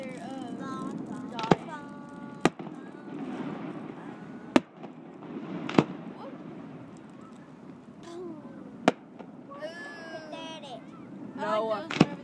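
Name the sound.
Christmas festival fireworks exploding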